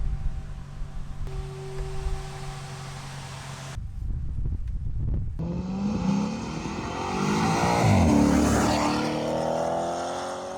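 A Maserati GranTurismo 4.2 V8 runs through a fan-like hum, then breaks into a loud, rising engine roar that swells and sweeps upward toward the end, close and dominant.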